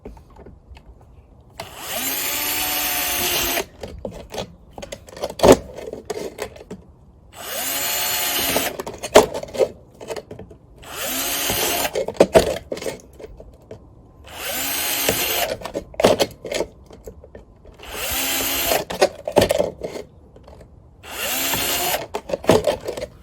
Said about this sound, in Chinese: 在底部漏水的需要，一般你钻上4到5个孔就行了